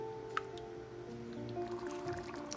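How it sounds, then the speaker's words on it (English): Thick tomato sauce being stirred in a pan for a homemade spaghetti meat sauce, soft wet squishing and dripping sounds near the mic over a faint steady hum, no talking. "I stir it together, making sure everything is mixed well together."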